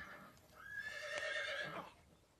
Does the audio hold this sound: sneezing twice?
no